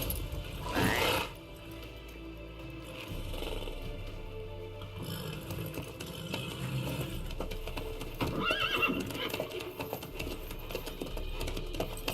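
A horse in a video game gives a loud whinny near the start, then a steady background of movement and faint hoof clops continues at low level.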